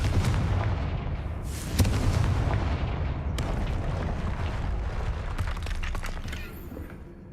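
A Confringo fire spell blast in the Hogwarts Legacy video game, a loud booming burst followed by rolling, rumbling crackle that slowly fades, with a sharp crack partway through.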